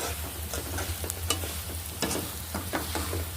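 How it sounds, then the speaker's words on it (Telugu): Flattened rice (poha) roasting in a pan gives a steady low sizzle with scattered scraping and stirring scuffs, close and fairly quiet throughout, with no voices. "ఇప్పుడు అటుకులు అవి కూడా వేయించుకోవాలి"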